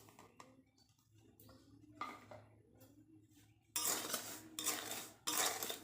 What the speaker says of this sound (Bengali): আমি আগে সুজিটা ভেজে নেব